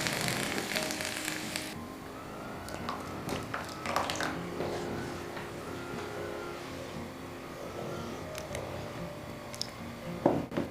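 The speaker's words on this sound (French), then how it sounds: "L'oignon est déjà doré, donc on ajoute la petite sauce." Sauce poured onto golden fried onion in a pan for a homemade pizza, giving a sudden loud hiss at first that settles into a steady, quieter sizzle with faint clinks of utensils, close by.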